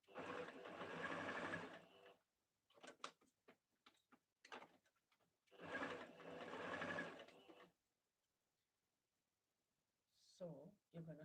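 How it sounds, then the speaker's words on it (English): A sewing machine stitches turban fabric in two loud, steady runs of rapid mechanical whirring, up close, separated by lighter handling clicks and pauses, with a little talk near the end. "I'm going to overlock this, but first I'm going to stitch it and then overlock it."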